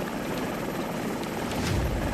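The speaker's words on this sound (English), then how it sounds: "there's nowhere for the helicopter to land" Helicopter flying over a tropical island with beaches and palm trees, a steady rotor and engine drone held at a constant level through the short stretch, with no voices.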